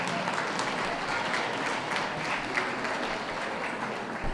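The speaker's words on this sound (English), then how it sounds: "Round of applause for her" Steady, dense applause from a crowd at a dog show hound group judging, honoring Mrs. Sue Ergis, sustained evenly throughout at a moderate level with no voices over it.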